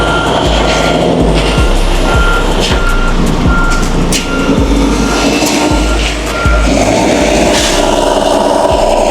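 A forklift unloading an oversize load from a truck trailer sounds steady intermittent reversing beeps over a loud, constant diesel engine rumble, with clanks and thuds recurring throughout.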